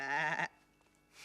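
A single sheep bleats loudly and close by, a wavering harmonic call lasting about half a second, followed by quiet farmyard background.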